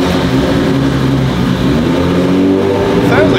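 An 800-horsepower VW engine runs loud and close, a dense, continuous roar with strong low harmonics and a slight rise in pitch toward the end as it revs.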